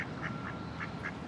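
Ducks quack at a shared boat dock: five short, evenly spaced quacks, fairly faint and steady, with no talking over them.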